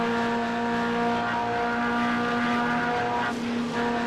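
A GT3 car in the iRacing simulation at Spa-Francorchamps holds a steady, loud engine drone, then dips briefly as the throttle lifts slightly before recovering.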